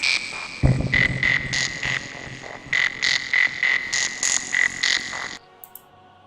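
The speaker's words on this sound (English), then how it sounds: "How about a frog song?" A frog song played as a stream video redeem: rhythmic, pulsing croaks and chirps repeating in regular bursts for about five seconds, loud and up front, then an abrupt stop.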